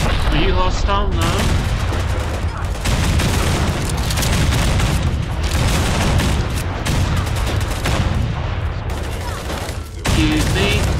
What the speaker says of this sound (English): This sounds like one hell of a gunfight.